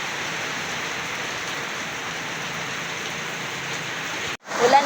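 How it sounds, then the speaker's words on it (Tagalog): Heavy rain pours down in a steady, dense hiss that runs unbroken for several seconds before cutting out abruptly near the end. "bumuhos na naman po yung ulan."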